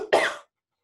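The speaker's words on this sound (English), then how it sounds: "I'm so sorry about the coughing." One short, sharp cough from a person indoors, close and abrupt, followed by silence.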